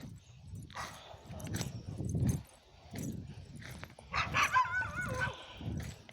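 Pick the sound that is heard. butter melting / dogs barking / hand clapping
dogs barking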